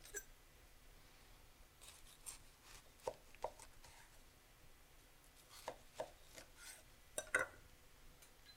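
Peeled, cored pears thinly sliced with a knife on a cutting board, soft irregular taps and thuds, close but quiet, with no talking.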